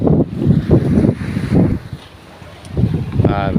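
Strong wind buffets the microphone beside a boat at sea, with gusty low rumbling and big waves washing around the hull, loud and close, briefly easing before picking up again.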